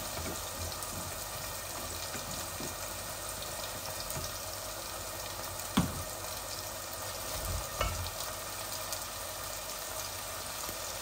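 Diced potatoes fry in a pan with a steady, soft sizzle, broken by two sharp knocks of stirring against the pan.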